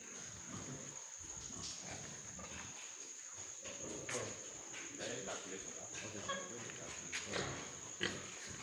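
Pigs on a pig farm grunt and snuffle in a continuous close-up murmur, with chickens clucking faintly behind them and a steady high electrical whine throughout.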